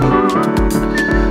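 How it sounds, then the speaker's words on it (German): Tune whistled in short melodic phrases with brief gaps, clear and close, over a low backing, from a 2019 German song. "pfeif dir ein Lied, egal was geschieht"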